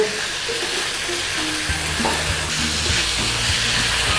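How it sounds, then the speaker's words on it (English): Onions go into a hot pan with pork liver and are stirred, giving a steady close sizzle, with low utensil knocks and scrapes partway through as the mixture is moved around. "get our onions in. Give it a stir through"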